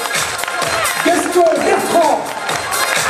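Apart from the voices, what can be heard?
audience applauding at a sports awards ceremony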